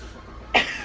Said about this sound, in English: And I may cough like I'm dying